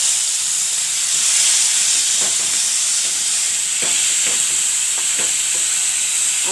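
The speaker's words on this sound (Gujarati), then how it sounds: "હવે આપણે આ ટમેટા નાખી દઈએ." Tomatoes hit a hot frying pan for a veg momos recipe, setting off a loud, steady hiss and sizzle with a few soft stirring knocks and no talking.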